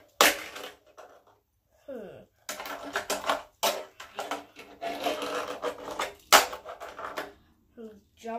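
A Tech Deck fingerboard scraping through grinds and flip tricks, making close, irregular bursts of gritty clacks and rasping scrapes separated by short gaps.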